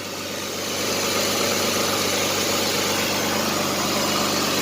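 A motor engine idles steadily, a continuous mid-low rumble with a faint vibrating hum that swells slightly at the start, then holds even, with no voices.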